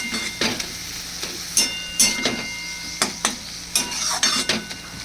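Pointed gourd is stirred in plenty of oil in a pan, the spoon scraping and clinking in irregular strokes over a constant background sizzle, close and with no talking.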